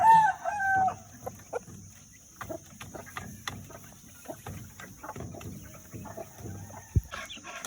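Free-range chickens of mixed breeds, including bantams, Silkies, Black Australorps and native chickens, cluck and crow in a farmyard. A rooster crows near the start, followed by scattered clucks and short calls, with no talking.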